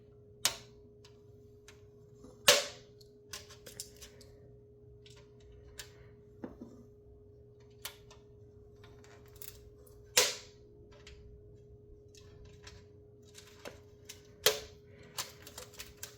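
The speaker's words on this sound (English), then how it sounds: "So I'm just going to cut the plastic." A knife cuts through tight plastic packaging in sharp, scattered clicks and snaps, with a few louder cracks spaced across a quiet background and no talking.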